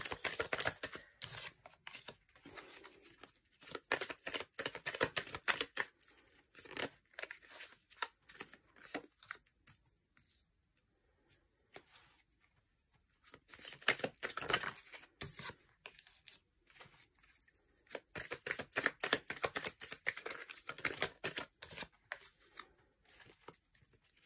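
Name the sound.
drawing five tarot cards from a deck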